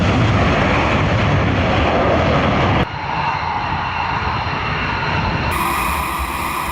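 Loud, continuous roar of a US fighter jet engine, steady throughout with no pause and no voices.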